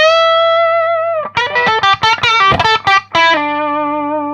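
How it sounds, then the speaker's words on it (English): An electric guitar through a BOSS Super Octaver OC-3 octave pedal plays a sustained note with a thick octave effect, then a quick run of choppy notes, ending on another long ringing note. "Seems like the higher the notes, the less the octave kicks in."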